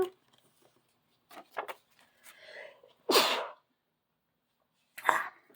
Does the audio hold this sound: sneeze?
yes